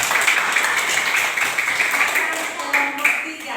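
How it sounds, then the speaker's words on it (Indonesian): Applause for a small group of students in a classroom, a steady dense patter of hand clapping throughout, moderately loud and close, with some voices mixed in. "tepuk tangan untuk kelompok 2"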